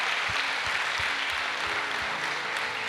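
A church congregation applauds during a family worship service, a steady, even wash of clapping from many people that continues throughout, with a faint low rhythmic thump beneath it.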